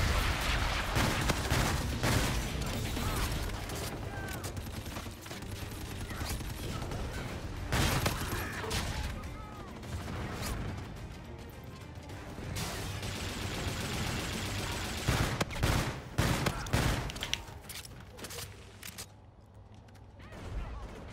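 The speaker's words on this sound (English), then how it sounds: "Friendly bombardment incoming." Friendly bombardment in the Call of Duty Infinite Warfare multiplayer mode, heard as dense bursts of explosions and gunfire. The noise is loud and sustained, cuts out in several sharp breaks, and a voice speaks over it at times.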